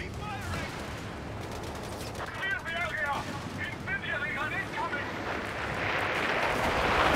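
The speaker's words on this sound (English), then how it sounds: "Oh my god, we all got airstrikes on those dudes." Airstrike explosions and gunfire in Company of Heroes 3, a WWII strategy game: steady rattling gunfire and rumbling blasts swelling toward the end, with voices talking over the battle.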